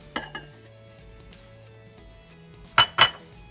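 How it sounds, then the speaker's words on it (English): Ingredients such as butter, milk and flour are added to a little bowl in a home kitchen, with a few sharp clinks of utensil and dish at the start and two louder clanks near the end over a quiet hum. "in this little bowl, I'm gonna go ahead and put my butter, my milk, and my flour"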